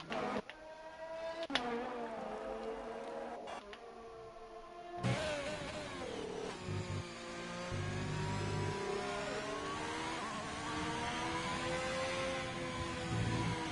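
Formula 1 cars in an F1 video game race at the Japanese Grand Prix, high-pitched engines whining and rising through the gears as several cars pass, with the revving pitch sweeping up and down.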